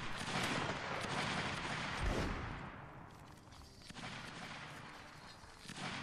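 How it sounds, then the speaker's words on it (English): Musket volley fire from a Napoleonic Wars battle in the Mount & Blade video game: dense, overlapping loud shots roll together into a continuous crackling barrage for several seconds, then thin out into scattered distant reports. "Let's just take a look while everybody fires away."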